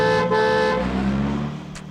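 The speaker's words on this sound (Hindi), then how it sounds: "सामने से कोई भी गाड़ी आए तो हॉर्न बजाना।" A car horn blares loudly for under a second over a rumbling engine, which carries on steadily afterward.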